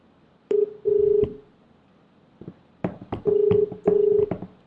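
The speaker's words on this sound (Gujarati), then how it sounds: "અને એમના સરપંચને આપણે ફોન લગાવ્યો છે." Keypad tones from dialing a phone call to a village sarpanch come in two short clusters of beeps, separated by a quiet pause with faint clicks.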